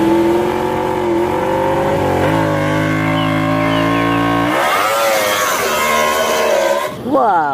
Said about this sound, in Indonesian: Ini motor balap.